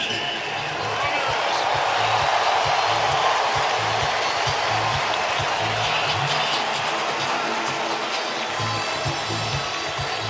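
Dodgers Stadium crowd at a 2008 NLDS Game 3 against the Cubs, a dense, steady roar of cheering and chatter filling the whole stretch at constant loudness, with a commentator talking over it.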